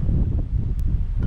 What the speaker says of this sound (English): Very windy, so hopefully you can hear me.